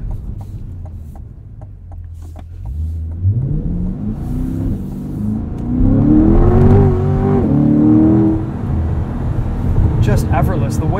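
A 2020 Chevrolet Corvette Stingray Convertible accelerating hard, its engine note climbing steadily in pitch and loudness through the gears, recorded from inside the car with someone talking over it.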